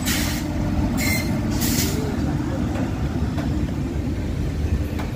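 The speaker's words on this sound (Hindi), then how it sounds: "दिल्ली पठानकोट एक्सप्रेस।" The Delhi Pathankot Express, hauled by a Ghaziabad locomotive, rolls past in a loud, continuous rumble with sharp bursts of hiss near the start.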